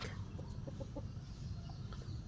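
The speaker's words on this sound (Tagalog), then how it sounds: "huni ng mga bata, huni ng mga manok, mga ibon" Chickens cluck softly in a quiet rural village yard, short repeated calls heard at a distance over a steady low background hum.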